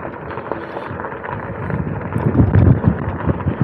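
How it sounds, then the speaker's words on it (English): Strong gusting wind roars across the microphone on a mountain switchback during a Himiway e-bike ride, a steady dense rumble that swells louder toward the end. "Oh, really hitting some wind up here."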